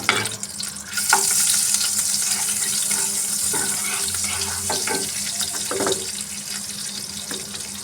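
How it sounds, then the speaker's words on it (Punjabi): Refined oil and butter sizzle steadily in a kadai while a tadka is prepared for homemade masala pav, with a dense, continuous hiss broken by a few light clinks and stirring taps, close and fairly loud, with no voices. "ਕੜਾਈ ਵਿੱਚ ਮੈਂ 1 ਚਮਚਾ ਰਿਫਾਈਨਡ ਆਇਲ ਲਿਆ ਹੈ ਨਾਲ ਹੀ 1 ਚਮਚਾ ਬਟਰ ਪਾ ਦਾਂਗੇ"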